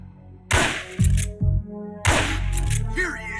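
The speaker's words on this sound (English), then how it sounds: "I heard gunfire!" Two sharp bursts of gunfire in the stealth game Metal Gear Solid Peace Walker, each a loud crack followed by heavy thudding impacts, set against in-game voices and a rising alert tone.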